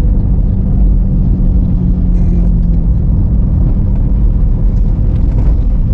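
A manual car driving in second gear during a practical road test: a loud, steady low engine and road rumble fills the cabin throughout with no voices.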